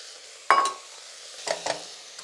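Beef and abalone stir-frying in a pot for Korean seaweed soup, a soft background sizzle broken by a sharp spoon scrape and a couple of quick metallic stirring clatters, close and otherwise without voices.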